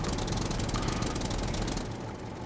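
A tractor engine in the SCUM video game chugs steadily with a loud, dense rattling drone, easing slightly toward the end, with no talking.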